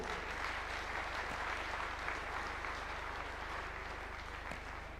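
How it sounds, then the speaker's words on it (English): Sustained applause from an audience at a formal event in Nairobi's KICC as a report is handed over, steady clapping filling the room throughout with no pause. "A round of applause for the report."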